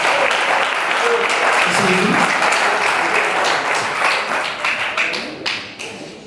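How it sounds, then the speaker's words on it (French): Applause for a man at a civil wedding ceremony in Brazzaville: a dense, sustained burst of clapping from a crowd in a hall, steady for several seconds before thinning and tapering off, with a few voices murmuring underneath. "Applaudissez pour Monsieur Ekuya, s'il vous plaît."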